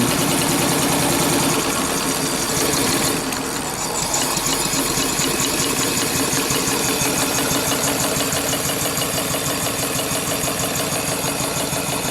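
Cale steam engine running steadily at about 250 RPM, a close, continuous fast mechanical chuffing and knocking rhythm with rattling, loud and alone.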